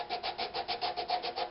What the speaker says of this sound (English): making sure I'm sanding with the grain